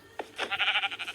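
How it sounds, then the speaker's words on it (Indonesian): A sheep in a survival video game gives one short, wavering bleat, close and clear, with no talk over it. "Dan di jalan aku ketemu dengan gerombolan domba."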